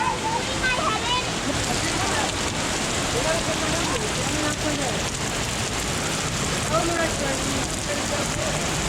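Rainbow Falls at Watkins Glen gorge trail pours down close beside the path, giving a steady, loud, broadband rush of falling water that fills the whole stretch without letup.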